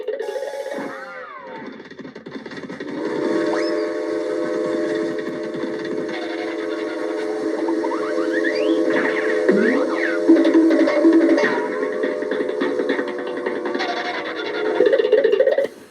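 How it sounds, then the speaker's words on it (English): A train pulling out of a station, its steam whistle holding steady tones over a continuous rumbling hum, with higher sliding whistle notes, alone and fairly loud throughout. "I told you this train was leaving the station."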